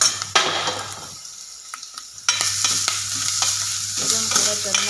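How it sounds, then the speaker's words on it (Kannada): Freshly grated coconut and spices stirring and frying in a pan for sambar masala, a steady sizzle with scraping stirs, briefly dropping quieter midway before the frying noise returns, no voices. "ಚೆನ್ನಾಗಿ ಫ್ರೈ ಮಾಡ್ಕೊಳ್ಬೇಕು ಇದು ಗ್ರೈಂಡ್ ಮಾಡೋದಕ್ಕೆ ಮಸಾಲ ಸಾಂಬಾರಿಗೆ"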